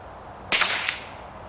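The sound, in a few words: rifle shot with moderator using subsonic ammo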